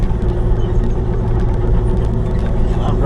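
Kubota KX040-4 mini excavator driving on a dusty driveway job, its diesel engine a close, loud, steady low drone with track and machine noise throughout.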